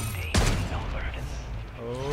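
Akimbo SPAS-12 shotguns fired in MW3 Zombies: a single loud, sharp blast with a short reverberant tail, followed by a steady bed of game ambience and low rumble.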